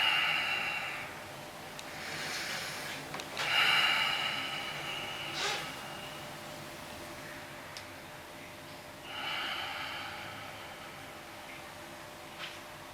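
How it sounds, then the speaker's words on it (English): Slow, deliberate breaths taken while seated in a cold plunge tub, each a soft airy hiss rising and fading with long quiet gaps between, close and fairly faint. "I focus on my breathing."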